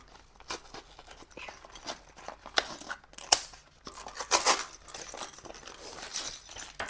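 Packets of assorted screws are opened close by with crisp snipping, tearing and crinkling of plastic, a series of irregular sharp bursts with small rattles in between, in a quiet room.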